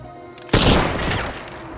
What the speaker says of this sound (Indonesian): suara tembakan tersebut membuat Scud mengetahui posisi Igora